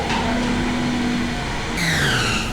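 At a Vietnamese banh mi shop, a blender motor whines steadily amid street noise, then jumps to a higher, shifting pitch partway through.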